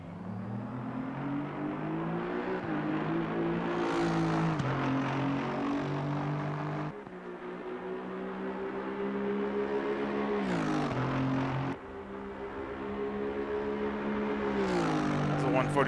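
An Aston Martin race car in Assetto Corsa Competizione lapping Paul Ricard: a loud, continuous engine drone that climbs through the gears, with quick upshift breaks and downshift blips at about 7 and 12 seconds, under someone talking.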